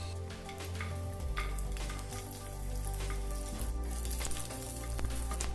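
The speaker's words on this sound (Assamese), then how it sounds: "অকণ মই ফ্ৰাই কৰি ল'ম নহৰুখিনি।" Garlic cloves fry in hot oil in a pan for a mutton gravy, a steady close sizzle with crackling spatters and occasional stirring scrapes throughout.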